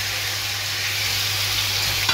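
Cuttlefish hits very hot oil in a pan and sets off a loud, steady, close sizzle that hisses evenly throughout, with no voices.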